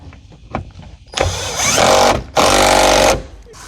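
A power tool drives bolts to fasten a seat into a Ford Ranger pickup, two loud close whirring bursts of about a second each separated by a brief pause, with a few faint knocks before.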